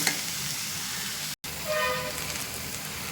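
Onions frying in an open pan, a constant close-up hiss and crackle broken by a brief dropout, then a slightly louder sizzle with faint clinks, with no talking.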